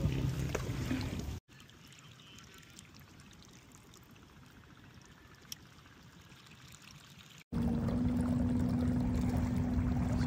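Water flowing past a kayak on Manila Bay in a strong current, a steady rushing and trickling wash close by that fills the whole clip, dropping to a quieter level in the middle section before returning louder.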